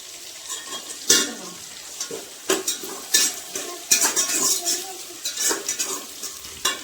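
Ginger garlic paste fries and sizzles in a pan for a pumpkin rice dish, with steady hissing broken by repeated scraping stirs and light clinks of a utensil against the metal, close up and with no talk.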